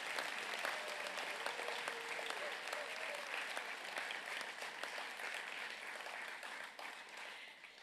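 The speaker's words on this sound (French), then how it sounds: "On les applaudit." Dense, sustained applause from a graduation ceremony audience, steady and fairly distant, with faint cheers mixed in before it eases slightly toward the end.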